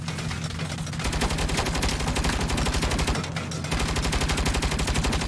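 Sustained rapid gunfire from a turret in a video game hammers on without pause, a dense loud machine-gun stream filling the whole stretch.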